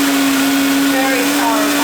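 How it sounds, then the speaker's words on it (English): A Vitamix blender runs on turbo blend, blending a green smoothie with spinach in one loud, steady, high whine that stays constant and close throughout. "Put the lid on tightly and start her up, and then with the Vitamix, we can turn it on turbo blend."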